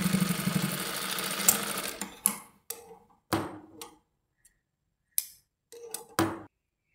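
A sewing machine runs a continuous stitching burst while attaching lace to a kurta, then breaks into short, separate stitching spurts with pauses between them, close by and moderately loud.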